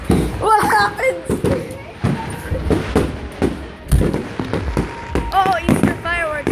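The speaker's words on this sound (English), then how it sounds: "Oh, Easter fireworks!" Easter fireworks go off in a rapid series of sharp bangs and crackles, some close and loud, while excited voices talk and exclaim over them.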